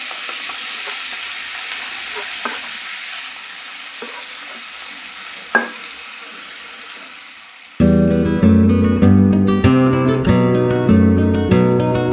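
Fenugreek leaves are stirred into hot oil in a wok with fennel seeds and sesame, giving a loud sizzle and stirring scrape. The cooking sound gives way to music partway through.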